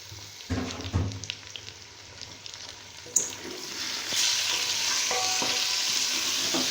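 Chicken pieces are stir-fried in a pan with softened golden onions for biryani. Several scraping stirs come first, then a sharp clatter, then a loud, steady sizzle that holds close up without any talk.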